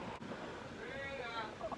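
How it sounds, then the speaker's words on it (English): Heavy wind during a severe thunderstorm on Memorial Day weekend roars steadily with broadband rush and gusty swells across the whole short stretch, with a voice faintly present underneath. "Oh man, this wind is very, very heavy."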